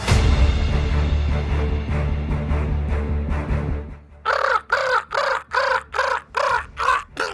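A squawking bird sound effect follows a dense, loud burst of other noise, then about eight harsh caws in a steady, rhythmic run, loud and close with short gaps between.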